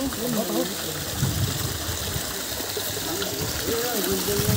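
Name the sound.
flowing stream water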